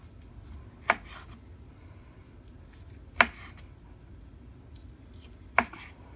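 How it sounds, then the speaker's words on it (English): A knife cuts through slices of ham on a cutting board, three sharp separate chops spaced a couple of seconds apart over a quiet background. "And then you just kind of just start going like this, cubing them up."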